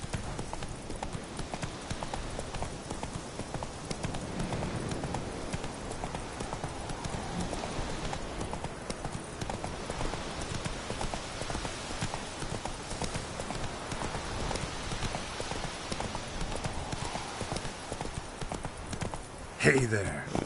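Roach, Geralt's horse in The Witcher 3, trots along with steady clip-clopping hooves close up, a continuous rhythmic patter that runs the whole time and ends in a brief louder bump.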